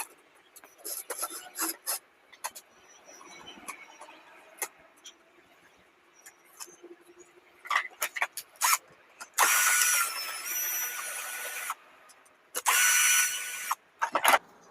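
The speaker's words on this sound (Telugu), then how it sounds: "ఓకే ఈ రెండు నట్లు వచ్చేసినాయి" Two nuts being unscrewed from a rice cooker under repair, close scraping and ratcheting turns in short uneven bursts, with harsher grinding rasps near the end.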